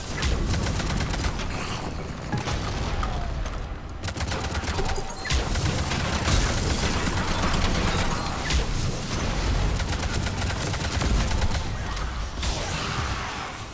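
Dense, continuous gunfire from the Mass Effect 3 multiplayer mode, with rapid overlapping shots and bursts mixed with impacts and explosions. The barrage stays loud throughout with no breaks.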